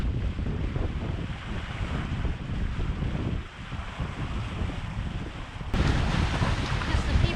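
Strong wind buffets the microphone on a sailboat at sea, a dense roaring rush with water sloshing beneath that briefly eases, then swells louder near the end.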